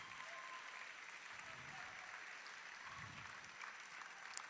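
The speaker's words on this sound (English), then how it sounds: "Please, we don't stop clapping till he comes." An audience at a blockchain and DeFi tech conference claps steadily as a speaker comes to the stage, a continuous wash of applause that is faint and distant.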